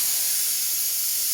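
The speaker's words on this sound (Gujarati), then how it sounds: "વઘારને આપણે દાળમાં એડ કરી દીધું છે" A hot tempering of spices, curry leaves and asafoetida poured into Gujarati dal, giving a loud, continuous steamy hiss that holds steady throughout the short moment, with no voices.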